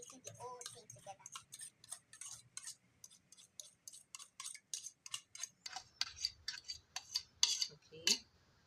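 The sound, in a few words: mixing mashed bananas into wet batter in bowl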